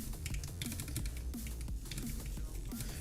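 Typing on a homemade split keyboard, a rapid, close stream of crisp key clicks and clacks with uneven rhythm.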